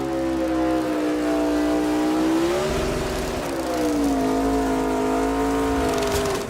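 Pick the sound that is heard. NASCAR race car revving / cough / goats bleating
NASCAR race car revving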